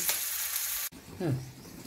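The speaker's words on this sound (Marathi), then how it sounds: "याच्यामध्ये हे सगळे पदार्थ फ्राय करून घ्यायचे आहेत।" Ingredients frying in hot cooking oil, a broad close sizzle filling the first second before cutting off, then a lower quieter sizzle with a brief voice or tonal sweep partway through.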